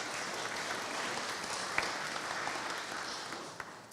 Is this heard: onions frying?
no